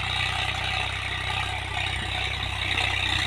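A Swaraj or Sonalika tractor engine runs steadily in first gear while pulling a harrow through wet, sticky soil, giving a continuous, fairly loud idling drone with a regular low throb and light rattle and no voices.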